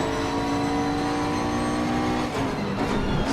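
A race car in Assetto Corsa Competizione racing a Lamborghini at Zolder holds a loud, steady high engine whine, with a brief shift or drop in tone near the end.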